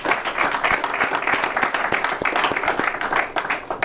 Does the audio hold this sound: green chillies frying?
no